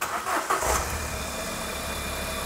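A Ford Fiesta with misfire trouble cranks briefly and catches, then settles straight into a steady, low idle close by, with no voices over it.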